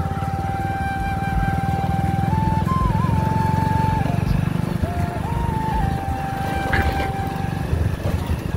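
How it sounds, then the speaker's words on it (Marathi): Prasad's motorcycle runs steadily along a rough village road, its engine droning with a whining tone that shifts in pitch as he rides, close and loud from start to finish. "हा आमचा प्रसाद गाडी चालतोय।"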